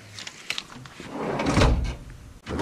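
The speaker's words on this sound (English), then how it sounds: "Soft closing drawers." A soft-closing drawer on a 72-inch steel tool chest glides and settles shut with a dampened, muffled thud near the end, with no hard slam.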